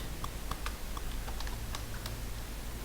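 Someone types on a computer keyboard while entering an Excel formula, giving a quick run of light, irregular key clicks over a soft constant background hum.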